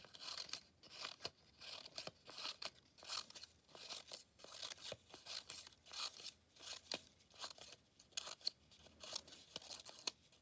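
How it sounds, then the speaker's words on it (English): Scissors snip fringe into a strip of quilling paper, a quick run of crisp, close cuts in an uneven rhythm, each a short papery crunch, with no talk over them. "So if you cut some fringe all the way down the paper"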